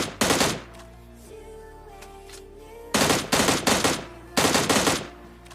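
Loud bursts of automatic gunfire from a battle royale video game, three separate volleys of rapid shots with quieter game ambience and a low tone between them.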